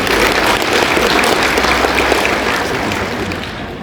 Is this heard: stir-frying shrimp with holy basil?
no